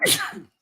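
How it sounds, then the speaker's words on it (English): A single close, sharp sneeze from a man, lasting under half a second, with a hissing burst followed by a short voiced tail, then silence. "Bless you."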